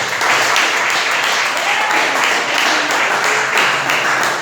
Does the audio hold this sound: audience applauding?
yes